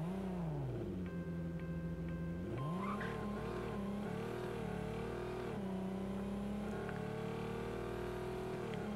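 A car in the Racing Rivals game drives with a steady engine whine rising through gear shifts, a brief tire squeal partway through, continuous and fairly quiet with no talk.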